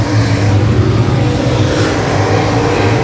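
Race cars at Timberline Speedway roar steadily around the track, a loud continuous blend of engines with a low droning tone and broad crowd-and-track noise, with no clear single pass or break.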